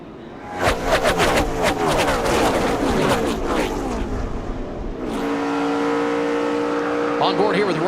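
Several NASCAR stock cars roar past on the inside at Michigan International Speedway, engines loud and close, with a steady high-speed drone that eases into a sustained engine whine as the pack streams by.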